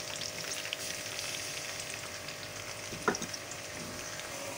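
Chopped onions fry in about half a cup of hot oil, a steady close sizzle with a brief louder crackle partway through as the pan is stirred.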